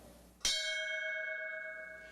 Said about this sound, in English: Please strike the bell.